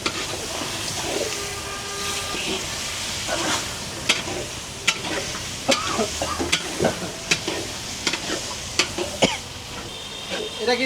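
Six kilos of Jamuna river shrimp stir-fried in a large pot at a makeshift tented roadside eatery. A continuous loud sizzle and steam hiss runs under sharp, irregular metallic scrapes and clanks from the stirring, with faint background voices.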